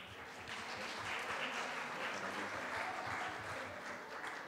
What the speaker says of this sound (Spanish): Le solicitamos un fuerte aplauso.